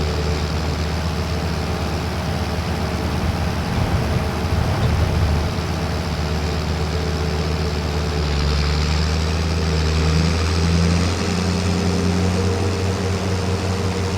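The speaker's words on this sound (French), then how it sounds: "Un bon petit tracteur." A small International tractor in Farming Simulator 25 runs with a continuous, steady diesel engine drone, droning evenly throughout with slight shifts in pitch as it works; no voices.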